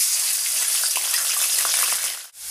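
Onion paste sizzling in hot oil in a pan, a steady loud frying hiss with scattered pops, cutting off briefly near the end before resuming.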